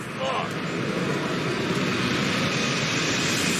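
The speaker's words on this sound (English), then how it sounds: "Is that a plane? Yeah. They're all taking off." Airplanes taking off in a TV drama, heard as a loud, steady broadband jet roar that fills the whole clip without letting up.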